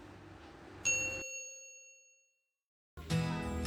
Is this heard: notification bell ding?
yes